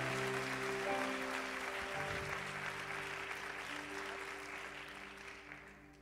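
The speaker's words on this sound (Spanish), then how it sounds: "Un aplauso al Rey de Reyes." Church congregation clapping during a sermon, a soft broad patter of hands under sustained organ or keyboard tones, gradually fading toward the end.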